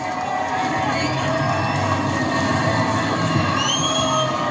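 Grandstand crowd roaring at a NASCAR race at New Hampshire, a loud, sustained roar that stays steady throughout with faint whistle-like tones rising above it.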